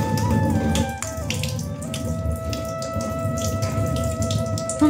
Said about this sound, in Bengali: চলো এটাকে আগে ভালো করে ধুয়ে নিই